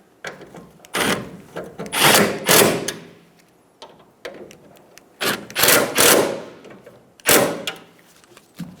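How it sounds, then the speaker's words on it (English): A power tool fires in short bursts, several buzzing runs separated by pauses, as bolts are snugged down on performance tail lights for a 2005–2015 Toyota Tacoma, loud and close. "Install the bolts. Snug them down."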